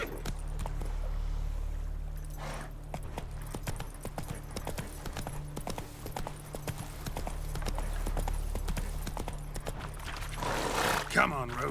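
Hoofbeats of a horse galloping in The Witcher 3 video game, a steady clip-clop running throughout under game music and ambience, with a brief louder whoosh near the end.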